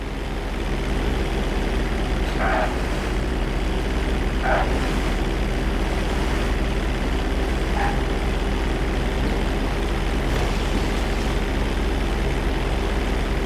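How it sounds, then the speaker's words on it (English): A plane rolls along a road after touching down in Grand Theft Auto V, its steady, loud engine droning throughout with a few brief higher squeaks, and no talking. "If you touch down smoothly, your plane is gonna stop pretty fast"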